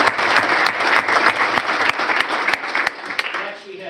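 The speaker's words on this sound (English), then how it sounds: "But let's give Santiago a big round of applause for 30" Loud audience applause at a county office service-award ceremony, dense steady clapping from a room full of people that tapers off toward the end.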